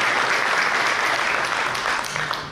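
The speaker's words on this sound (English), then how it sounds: "Let's give little Emma a round of applause." Audience applause at a firefighter academy graduation ceremony, a loud, sustained burst of many hands clapping throughout with no lull.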